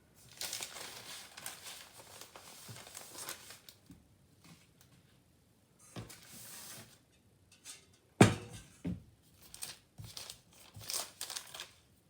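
Thin filo pastry sheets being peeled off and laid down one at a time crinkle and rustle softly in separate bursts, broken by pauses and one sharp knock.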